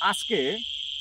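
Crickets chirp at night beside an old silk cotton tree, a steady high continuous trill running through the whole moment while someone briefly speaks over it.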